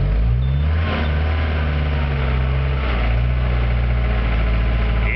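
A hydraulic machine's engine idles steadily in the cold, a constant low rumble with a slight rise in revs early on, loud and close with no voices.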